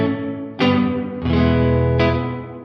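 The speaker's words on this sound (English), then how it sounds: "It's an echo setting," An Electro-Harmonix Cathedral reverb pedal on its echo setting with very short pre-delay, processing three loud sustained guitar chords that each ring out and overlap in a wash of repeats, with no talk.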